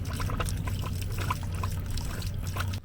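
Water drains steadily from the drain valves of an Airstream trailer during winterizing, a continuous close splashing pour that stops abruptly at the end.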